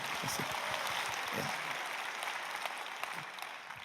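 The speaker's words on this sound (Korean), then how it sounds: "박수를 크게 치세요" Korean church congregation applauding during a Sunday service, a continuous wash of many hands clapping, steady and fairly soft, heard from across the hall.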